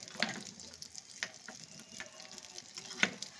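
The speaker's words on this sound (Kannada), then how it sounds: "ಎಲ್ಲ ಚೆನ್ನಾಗಿ ಫ್ರೈ ಮಾಡಿಕೊಂಡ್ರೆ ಕಂದು ಬಣ್ಣ ಬರೋವರೆಗೆ ಸ್ವಲ್ಪ ಫ್ರೈ" Chana dal fries in a pan for kadlebele payasa, a steady soft sizzle broken by a few sharp clicks of a spoon scraping and stirring, fairly quiet and close with no talking.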